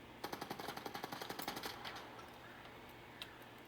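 A rapid burst of automatic gunfire in a video game, about fifteen evenly spaced sharp shots over roughly two seconds, fairly quiet, then a low rumbling tail and a couple of faint stray shots.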